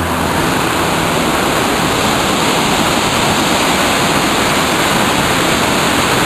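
A small waterfall with roughly a six-to-eight-foot drop in Vermont pours in a steady, close, full-bodied rush that holds constant throughout, with no voices.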